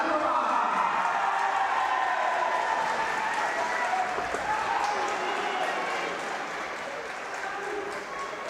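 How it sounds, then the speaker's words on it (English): A crowd at a youth sports event gives sustained applause, a broad wash of clapping that starts loud and eases slightly toward the end, heard from within the venue. "Yanikova receives a strong applause from the crowd."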